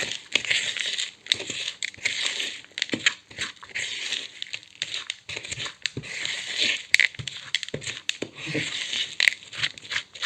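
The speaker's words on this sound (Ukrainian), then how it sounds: "Ну і висипаю сюди те, що я назбирала у своєму пакеті з керамзитом. Добряче вимішую." Expanded clay pellets are mixed into moist potting soil, giving close, repeated crunchy rustles and gritty scraping bursts in an uneven rhythm, with no talking.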